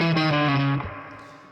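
Distorted electric guitar plays a short slow-blues lick, a sustained bent note ringing out briefly before decaying, heard alone and up close.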